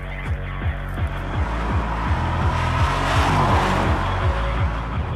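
A tuned Audi RS6 estate by OCT accelerates hard, its engine note climbing in repeated surges through rapid gear changes, loud and close with a deep rumbling drone throughout.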